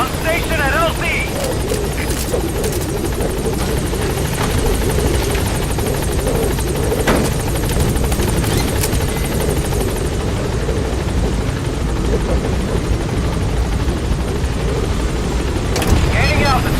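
Helicopter rotor din from a support chopper arriving and hovering at a landing zone in the video game Metal Gear Solid V: The Phantom Pain, a loud steady thrumming that fills the whole stretch with a radio-style voice faintly beneath it.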